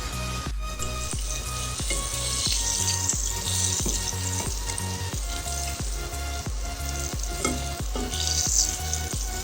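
Squid rings deep frying in hot oil make a loud, dense sizzle and crackle that carries on steadily throughout, with pulsing bubbling close by and no voices.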